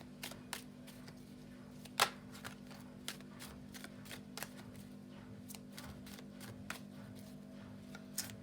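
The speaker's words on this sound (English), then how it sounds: "let's have a shuffle and see what we have going on for next week" Tarot cards being shuffled by hand indoors, a quiet series of soft, irregular flicks and taps with one sharper snap, close by and with no talking.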